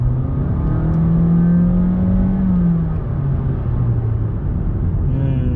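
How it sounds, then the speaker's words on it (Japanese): A Honda Fit hybrid with CVT accelerating at full throttle, its engine droning loudly at a steady high pitch that holds and slowly shifts, heard from inside the car with no voices. "こういう全開加速した時とかは"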